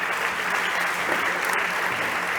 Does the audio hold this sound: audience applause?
yes